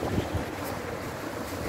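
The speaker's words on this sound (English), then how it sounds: "It's cold. It is, it's windy." Cold wind blowing outdoors, a steady broadband rush with gusting microphone buffeting, close and fairly loud with no voices.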